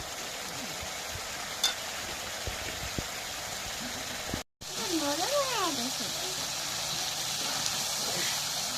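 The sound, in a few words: spice paste being stirred and fried in oil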